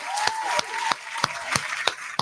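Several sharp hand claps spaced about a third of a second apart, sounding over a steady background with a faint tone, in a casual podcast setting.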